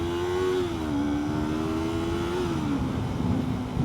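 A Yamaha R3 motorcycle being ridden, its engine holding a steady, fairly loud drone with slight pitch shifts from throttle changes, continuous and without talk.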